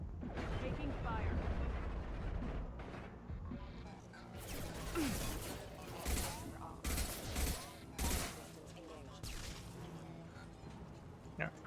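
Combat gunfire in the Mass Effect 2 video game, rapid bursts of shots and sharp impacts crowding the scene, mixed with crashing mechanical sounds and spoken dialogue.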